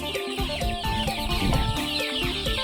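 A flock of more than a hundred domestic free-range chickens, one and two months old, clucking continuously on a farm, a dense, close chorus of overlapping clucks with no talk.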